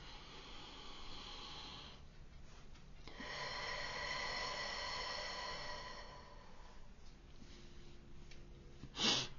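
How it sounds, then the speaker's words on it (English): A slow, deep breath drawn in and then let out, quiet and close, with a long, steady airy whoosh and a faint sigh-like release near the end. "so take a deep breath with me."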